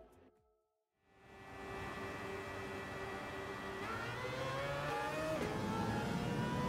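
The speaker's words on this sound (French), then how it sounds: "le bruit de la voiture" A race car engine in a Le Mans racing video game starts after a brief quiet moment, then holds a steady, droning roar whose pitch climbs through the gears as it accelerates.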